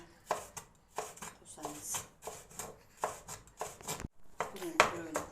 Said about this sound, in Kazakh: Бұрышымызды турап жіңішкелеп